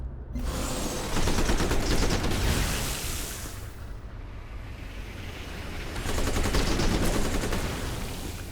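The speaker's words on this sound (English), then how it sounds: "I think I might also attack it with the needle jets." Needle jets attacking in Civilization: Beyond Earth Rising Tide: two loud bursts of rapid crackling fire, each lasting about three seconds over a heavy rumbling roar, with a quieter roaring stretch between them.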